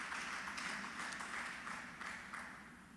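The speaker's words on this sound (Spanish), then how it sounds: "¿Cuántos pueden bendecir al Señor con una ofrenda de aplausos?" Church congregation giving a sustained round of applause, dense even clapping from many hands that slowly fades toward the end, with no speech over it.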